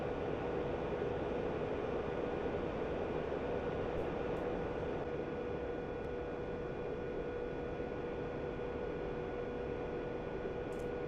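MiG-19 jet flying low over forest and villages in a flight game, a steady, loud broadband engine roar with constant tonal whine throughout, unchanging in level.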